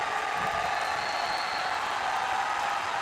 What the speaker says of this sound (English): Crowd really into this one.